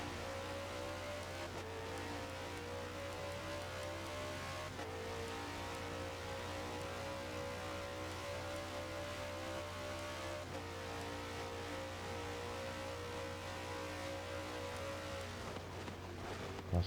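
Race car engine in a racing game at Catalunya, droning steadily as it accelerates down the straight, with long rising engine tones, a few gear-change dips and a constant low hum throughout, with no talk over it.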